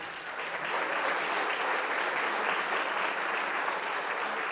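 Sustained audience applause after a talk on Goliath grouper conservation, a dense, even roar of clapping that swells within the first half second and holds steady without talk.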